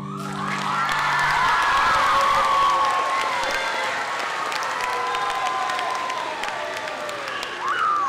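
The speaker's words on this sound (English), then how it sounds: "Applause for Owen and Lily." Audience at a middle school talent show breaks into applause with cheers and whoops, children shouting among the clapping crowd; a dense, loud swell that sustains for several seconds, with a faint sung tone fading at the very start.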